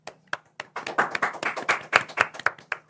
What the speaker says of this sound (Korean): 폴라리스 오피스 박수 한번 부탁드립니다.